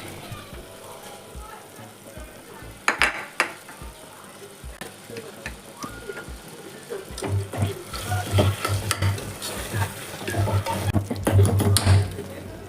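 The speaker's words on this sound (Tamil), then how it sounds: "புதினா ஒரு ரெண்டு நிமிஷம் நல்லா வதங்கட்டும்" Mint leaves and tomatoes sautéing in a pan for mushroom biryani, with a steady sizzle, stirring scrapes and some clatter that grows louder in the second half, while a voice talks now and then.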